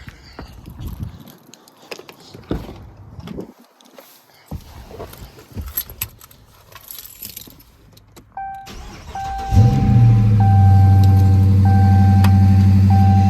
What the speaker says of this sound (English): We're gonna go start it up.